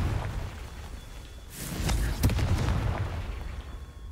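Confringo fire spell exploding in the video game Hogwarts Legacy: a low rumbling game ambience breaks into a sudden burst with crackling blasts midway, then a sustained booming roar that slowly fades.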